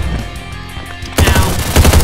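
Gunfire in the video game Slendytubbies, a rapid burst of loud shots starting abruptly after a quieter moment, with no talking.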